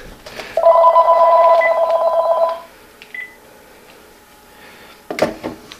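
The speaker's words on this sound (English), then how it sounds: "that phone's going to ring 14 times" A telephone rings with a warbling electronic tone for about two seconds, then goes quiet. A clunk and rattle follow near the end.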